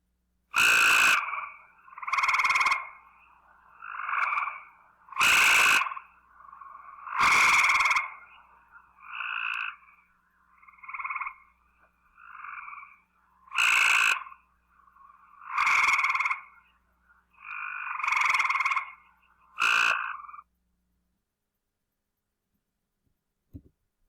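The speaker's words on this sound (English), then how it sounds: "This recording has both tree frogs calling intermittently, first the Cope's, then the eastern." Cope's gray tree frog and eastern gray tree frog call in turn, loud, close trills repeating in bursts of a second or two separated by short pauses, then silence at the end.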